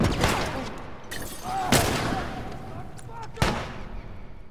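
Gunfire in The Last of Us video game during a factory attack: a few sharp, separate shots spaced a second or two apart over low background noise, with a voice talking between them.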